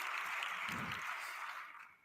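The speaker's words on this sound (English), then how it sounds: "Yay, clap it up, clap it up, clap it up." Applause at an audio awards ceremony, a soft continuous wash of many hands clapping at a distance, steady then fading out toward the end.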